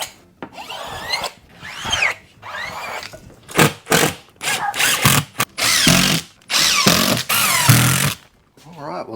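A power drill driver runs screws into drywall during a kitchen renovation, firing in short bursts of rising whine that end in brief grinding as each screw seats, loud and close with gaps of near silence between.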